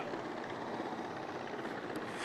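Steady, loud rotor and turbine roar of Nigerian Air Force Mi-171 and Mi-35P attack helicopters in flight, continuous and without a break, with no voices heard.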